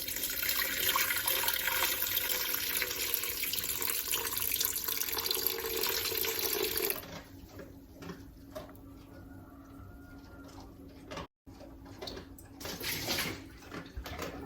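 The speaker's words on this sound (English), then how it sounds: "So I just have water from the tap" Tap water runs steadily into a vessel while measuring ingredients for a pumpernickel-rye sourdough loaf, loud and continuous for several seconds before cutting off, followed by quieter handling noises.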